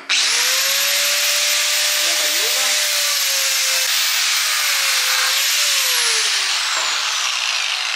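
A power saw cuts pieces from a wooden segment fence, a loud continuous whine with a shifting pitch that dips briefly as the blade bites into the wood, running without pause from start to finish.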